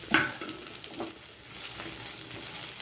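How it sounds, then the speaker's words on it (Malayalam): Onions sautéing in a pan as a fish dish is prepared, a faint sizzle with a few soft stirring scrapes and knocks, close and quiet with no voices. "കുറച്ച് സവാള നമുക്കിനകത്തിട്ട് വഴറ്റിയെടുക്കാം."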